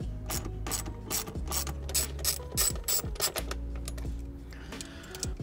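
A hand ratchet loosens 12mm bolts on the shifter plate of a 2022 GR86, producing quick close-up runs of sharp pawl clicking in repeated bursts, with no talk.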